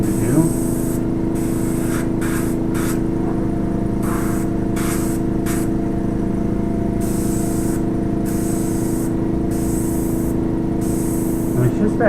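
Airbrush spraying paint in short dagger strokes while painting a guitar, heard as repeated brief hissing bursts over a steady low compressor-like hum, with speech present throughout.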